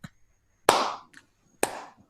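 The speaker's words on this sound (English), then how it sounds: "he begins to clap slowly" Slow, deliberate hand clapping from one person in a quiet room: two or three sharp, isolated claps spaced roughly a second apart, each with a short ringing decay.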